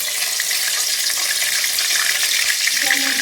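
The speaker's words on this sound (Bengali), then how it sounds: "দেখুন আমার তেল গরম হয়ে গেছে। এবার আমি তেজপাতা দিয়ে দেব।" Bay leaves sizzling in hot white oil in a wok, a loud, dense crackling fry that holds steady throughout.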